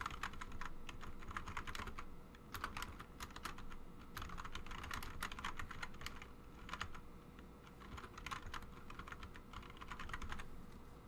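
Steady typing on a computer keyboard while a note is entered, with quick bursts of key clicks running for about eleven seconds over a quiet room hum, close and fairly soft.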